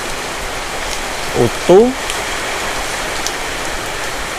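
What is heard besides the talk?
rain falling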